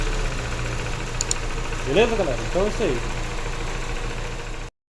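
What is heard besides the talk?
engine idling with Weber 460 carburetor being adjusted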